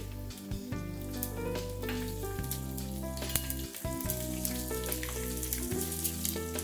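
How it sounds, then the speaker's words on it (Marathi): Mustard seeds, sesame seeds and chilies spitting in hot oil for a tadka, a steady close sizzle with scattered pops and crackles running throughout, no voices. "हे बघा तेल गरम झालं आहे मोहरी घालते तडका देते"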